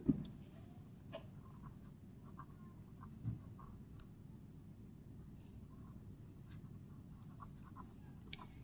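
A pen or pencil scratches out numbers by hand during a math lesson: soft, close strokes in short bursts over a quiet room, with a few faint taps.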